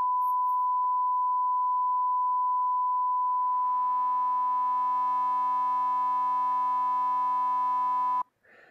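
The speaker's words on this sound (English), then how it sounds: "I'm going to switch back to a sine wave as my carrier frequency, but I'm going to switch to a square wave as my modulating frequency now." Sustained FM synthesizer tone from Ableton Operator, a sine carrier modulated by a square wave, held as a steady buzzy drone with partials building in before it cuts off abruptly.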